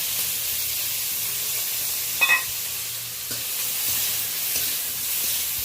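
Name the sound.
bitter gourd frying in oil with salt and turmeric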